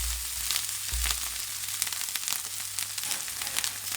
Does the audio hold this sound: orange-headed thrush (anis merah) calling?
no